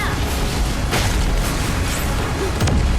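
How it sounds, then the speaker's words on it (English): A tower collapsing in a MOBA game, dense booming bursts and crashing debris over loud, constant game noise, with no clear voice. "Your team has destroyed a tower."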